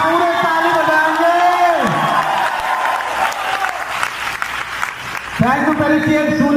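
Indoor audience at a business incentive and cheque-award event clapping together, a steady wash of applause running under an announcer's amplified voice and music that cut out and return.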